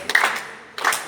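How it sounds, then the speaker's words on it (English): A class claps hands in unison, producing two sharp, close claps about two-thirds of a second apart. "How do you do our 4 bits? We clap."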